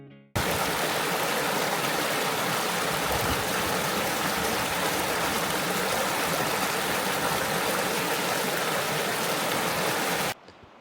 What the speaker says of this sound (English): that's the Macquarie River behind me